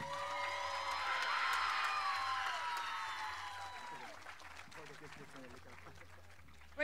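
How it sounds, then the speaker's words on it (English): An audience applauds and cheers for a Tongan dancer at a Polynesian dance performance, with whoops and high shouts over dense clapping that is strongest early and gradually thins toward the end. "Let's give Kayla a round of applause."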